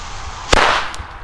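A single WECO Pyrocracker firecracker goes off with one sharp, close crack followed by a brief noisy decay outdoors.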